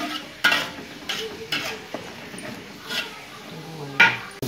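A utensil stirs shallots, garlic, chili and spices in a pan, making repeated scraping clinks against the metal over a faint sizzle, close and fairly loud.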